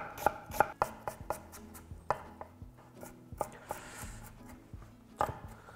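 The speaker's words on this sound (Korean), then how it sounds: "연근을 좀 썰어줄게요" Lotus root chopped with a knife on a board: a dozen or so crisp, close knocks in an uneven rhythm, some in quick pairs and others spaced apart, with no talk.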